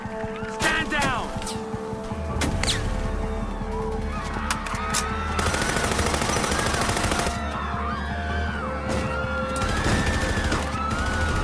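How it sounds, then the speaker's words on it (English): Rapid bursts of gunfire in Act of War: Direct Action crackle over a noisy mix of honking, shouting and other effects in a plaza, with voices talking throughout. "Gunshots reported in the plaza."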